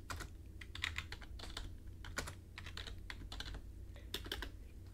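Numbers being typed on a computer keyboard, a steady run of light, close keystroke clicks with brief irregular gaps, quiet and without any voices.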